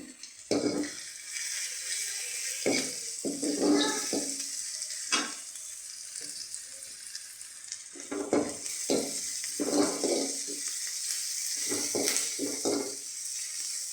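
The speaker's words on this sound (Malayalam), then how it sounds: "നമ്മുടെ ഉള്ളി മൂത്ത് വരുന്നുണ്ട്" Onions fry in a pan for a kadala curry with a constant hissing sizzle, broken by repeated scraping stirs and pan clatter.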